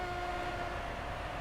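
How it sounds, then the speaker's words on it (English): A Class 143 Pacer train in Train Simulator 2016 rumbles past on the Riviera Line, a steady loud rolling drone with a sustained horn-like tone running through it. "Train going over you."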